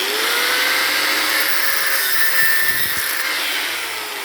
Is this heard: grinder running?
yes